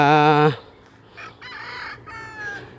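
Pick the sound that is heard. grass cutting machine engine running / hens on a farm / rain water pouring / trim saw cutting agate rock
hens on a farm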